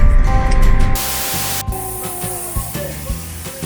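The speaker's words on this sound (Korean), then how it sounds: "맛있는 소리 지글지글 소리" A loud burst of spraying hiss followed by a steady crackling sizzle of pork belly on a cast-iron pot-lid griddle, close up, with soft knocks and clatter underneath.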